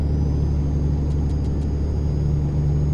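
A truck in Euro Truck Simulator 2 slows with its retarder engaged, giving a steady loud low rumbling drone with a faint high whine throughout.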